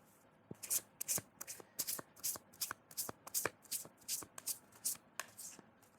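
Tarot cards being shuffled by hand, a close, crisp series of about a dozen quick riffling flutters and taps in an uneven rhythm, with no talking.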